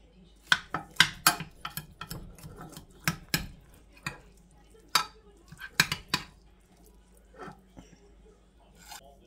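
Knife and fork cut into a home-cooked dinner on a plate, giving scattered light clinks and scrapes of metal on crockery in irregular bursts, fairly quiet with pauses between.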